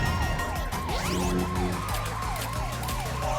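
A siren wails in a naval battle video game, rising and falling in a fast repeating sweep over steady droning engine and battle noise, loud and continuous throughout.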